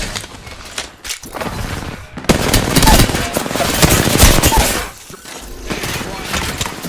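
Rapid automatic gunfire in the video game Apex Legends, playing as Fuse in a ranked match: loud, close bursts of shots and impacts, with a brief pause mid-way, under faint player voices.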